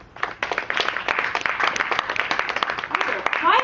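Audience applause and cheering at an NYU poetry slam, a dense, steady patter of clapping that swells toward the end, with voices mixed in.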